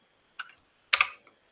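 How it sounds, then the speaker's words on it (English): Two crisp computer keyboard key presses, a light tap followed by a louder double-clack, close and isolated against a quiet background with a steady faint whine. "You hit your key on your keyboard, you can scale it down."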